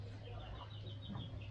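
A brooding hen settled in a cattle feed trough at a temple farmyard gives soft, low clucks over a steady background hum, close by and without speech.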